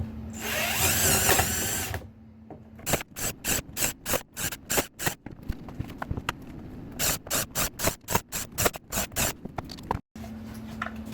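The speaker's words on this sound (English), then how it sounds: "drilling these holes out really fast" A power drill bores shelf pin holes in kitchen cabinet panels using a jig kit, starting with a sustained whine, then a long series of short, rapid, evenly spaced bursts as each hole is drilled, close and loud.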